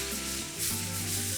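Fennel going into hot oil in a pan: a loud, continuous close sizzle and crackle of frying that swells briefly as the pieces hit and keeps hissing steadily afterward.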